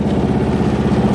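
A buggy's engine running in mud, a loud, close, steady throbbing drone with a rough low pulse and no speech.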